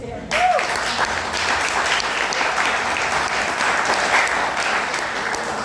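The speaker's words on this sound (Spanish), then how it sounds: "Denle un aplauso al Señor" A church congregation bursts into loud, sustained applause at a worship service, the dense clapping starting abruptly and filling the whole stretch, with a brief voice at the very start and faint voices mixed into the crowd.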